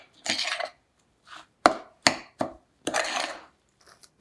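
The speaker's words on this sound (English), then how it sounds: "And you mix this all up. Break up the eggs, make sure they get mixed well." Eggs and non-dairy milk stirred together in a glass mason jar: quick, bright clinks and scraping knocks of a utensil against the glass, a few separate bursts with short pauses between.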